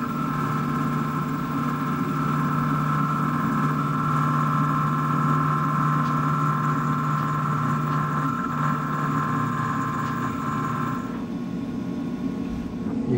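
A metal lathe turning at 600 RPM takes a cut on a part held in a 3-jaw chuck, giving a steady mechanical hum with a sustained tonal whine that drops away near the end.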